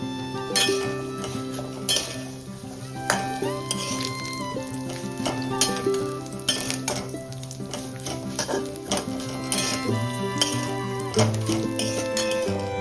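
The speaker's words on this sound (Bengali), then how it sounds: "ঘিটা গলে এলে এখানে দিয়ে দেবো সেমাই সেমাইটাকে একটু ভালো করে ভেজে নেব হালকা লালচে করে" Vermicelli frying in ghee in a wok, a steady close sizzle with repeated stirring scrapes and occasional clinks of a metal spoon against the pan throughout.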